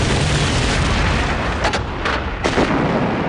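Artillery guns firing during the Battle of Kampar in Malaya in World War Two, deep booms and blasts against a dense roaring wall of battle noise, loud and continuous, with a few distinct bursts near the end.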